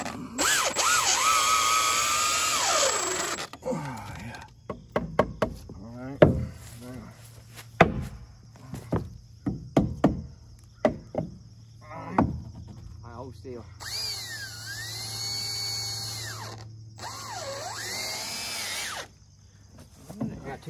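A power drill drives screws into soft, punky wood at a hunting camp, with a sustained whine at the start, a string of knocks and taps in the middle, then more drill bursts near the end while people talk.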